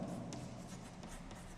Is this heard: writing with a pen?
yes